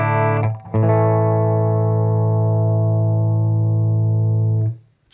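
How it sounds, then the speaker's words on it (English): A clean electric guitar played through a Boss GT-1000 into a tube amplifier using the four-cable method: a quick re-picked chord, then one sustained, even chord ringing for about four seconds before being cut off. "to just give you a little sample for what the guitar sounds like with nothing added in a 4-cable method"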